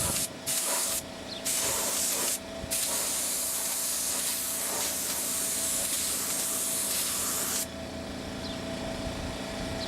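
Silver paint sprayed onto a model airplane, heard as a continuous close, loud airbrush hiss that cuts out in a few brief pauses, then stops and leaves a softer background hiss.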